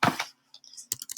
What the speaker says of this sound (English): Oops, sorry, am I typing?